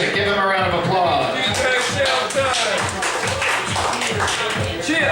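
A crowd at a Tabernacle gathering claps and cheers loudly and steadily, a dense sustained round of applause with crowd voices mixed in throughout.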